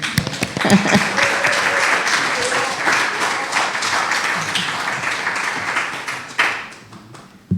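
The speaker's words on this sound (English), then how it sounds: "You're supposed to hold the applause until after the talk" Church audience applause greeting a senior pastor as he comes up to speak, a sustained wash of clapping that fades near the end, with voices faintly mixed in.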